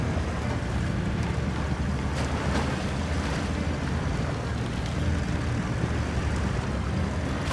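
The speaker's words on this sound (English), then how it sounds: "allowing it to just kind of float across this water" The HAL GTE1500 amphibious vehicle floats across water in the Expeditions video game, giving a steady, unbroken wash of water and wind-like rushing with no engine surges or voices.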